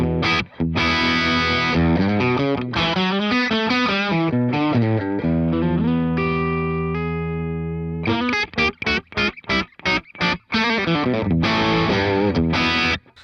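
An overdriven electric guitar plays a chunky riff through a Victory V4 Sheriff amp set for an old Plexi-style tone with more bass: sustained distorted chords, then a run of short, choppy stabs.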